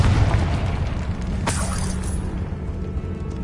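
Confringo fire spell bursting in Hogwarts Legacy, a single sharp blast about midway through, loud over a steady low rumble of game ambience.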